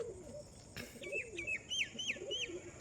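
Newly brought Madras pigeons, a male, a female and two young, coo softly in low rolling phrases. Repeated higher chirping calls join them, heard close but quiet.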